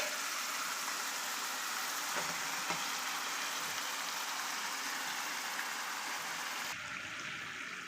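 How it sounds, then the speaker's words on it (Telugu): Marinated chicken pieces fry steadily in a pan for chicken fry piece biryani, giving a continuous broad hiss that holds even throughout and drops slightly near the end, with no talking. "ఇప్పుడు మనం ఈ మ్యారినేట్ చేసి పెట్టుకున్న ఈ చికెన్ని చక్కగా ఫ్రై చేసుకోవాలి"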